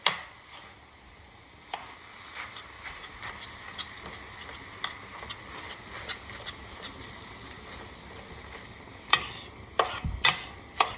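Ground turkey frying in a pan for shepherd's pie, broken up with a utensil in a steady quiet sizzle punctuated by scraping taps and a cluster of louder knocks near the end, close and without voices.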